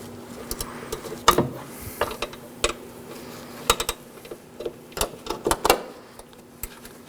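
Ratchet tightening the outer hood hinge bolt on a 2013-2019 Nissan Sentra, a series of quick close clicking strokes in irregular bursts, fairly quiet with no talk.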